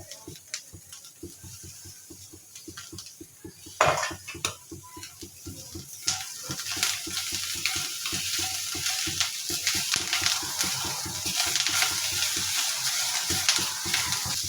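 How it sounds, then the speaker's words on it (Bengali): Bottle gourd peel with coriander leaves frying in a pan, a steady close sizzle under rapid, regular scraping and clinking of a spatula against the pan, growing louder and denser partway through. "ধনিয়া পাতা দিয়েও আমি এক মিনিট মতো ভেজে নেবো"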